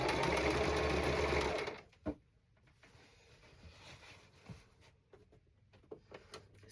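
A sewing machine runs in a fast, steady stitching burst while sewing striped pant legs, then stops, followed by faint handling clicks and a soft voice.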